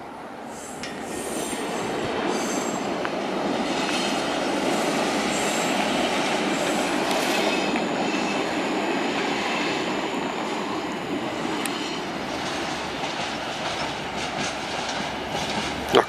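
A Talent multiple-unit train rolls into Leipzig Central Station, a steady loud rumble of wheels on track with faint squeals, sustained throughout with no talking.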